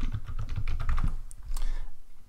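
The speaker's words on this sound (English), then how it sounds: "type your search terms" Fingers type search terms on a computer keyboard, a quick run of close, crisp key clicks that slows and thins toward the end.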